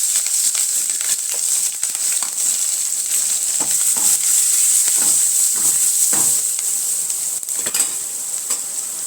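Chopped chillies with mustard seeds, cumin and curry leaves frying in hot tempering oil, a loud continuous high hiss with scattered crackles and stirring scrapes close by.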